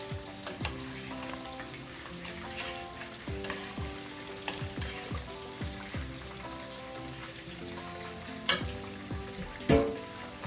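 Brown stew fish crackling softly in a pot as it is stirred, with repeated clinks and scrapes of the utensil over a light, spattering sizzle and a couple of sharper knocks near the end.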